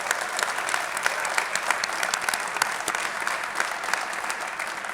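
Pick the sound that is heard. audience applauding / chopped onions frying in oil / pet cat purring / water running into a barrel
audience applauding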